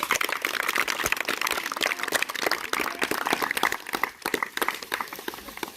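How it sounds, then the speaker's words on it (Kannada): Classroom students clap loudly together, a dense, steady burst of many hands lasting several seconds, close and alone without talk. "ಎಲ್ಲರೂ ಜೋರಾಗಿ ಚಪ್ಪಾಳೆ ತಟ್ರಿ"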